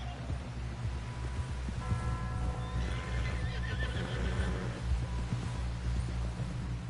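Horse in Red Dead Redemption 2 gallops with rhythmic clip-clop hoofbeats and lets out a loud whinny midway, under a constant low rumble of riding and game ambience.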